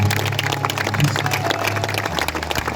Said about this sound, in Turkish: Alkışlar ama en yüksek alkışlar.